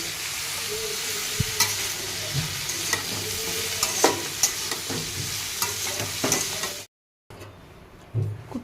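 Bay leaf and dried red chili crackle and sizzle in hot oil in a home kitchen, a steady frying hiss with scattered pops and stirring clatter, cut by a brief silence before the sizzle resumes more faintly.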